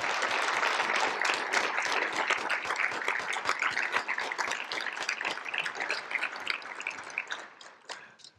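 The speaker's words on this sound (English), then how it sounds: "So one more round of applause to all of you." An audience at an awards ceremony claps loudly and steadily. The dense applause fades slightly and thins to scattered claps at the end.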